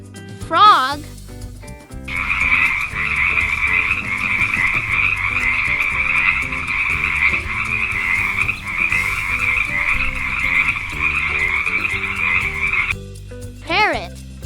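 A frog croaks in a long, continuous, loud rattling chorus over a light music backing, with a short voice just before it begins and another right after it stops.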